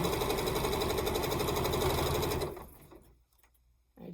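A sewing machine stitches quilt rows together, running loud and steady with a fast, dense mechanical rhythm for about two and a half seconds before stopping abruptly and leaving near silence.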